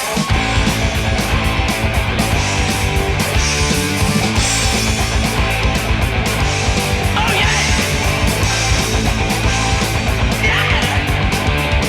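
Heavy distorted electric guitar riff from a song, sounding as a full, loud band recording that runs steadily throughout with driving drums underneath.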